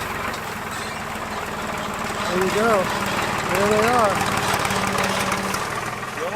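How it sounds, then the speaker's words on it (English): A tractor engine running steadily at idle while timber is cleared outdoors, a low rhythmic chug heard throughout beneath people talking nearby, with a brief rise in level midway. "There's the tractor."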